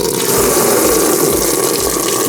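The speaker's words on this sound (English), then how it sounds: "And there comes all the old coolant." Old coolant gushes from an opened radiator drain tap on a 1.8 20VT Polo 9N3 GTI, a loud, steady, continuous pour of liquid with no voices.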